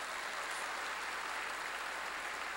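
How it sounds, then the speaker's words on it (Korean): An audience claps at a church sermon, giving dense, even applause that holds at a steady level throughout, with no voices over it. "박수 좀 쳐줘요"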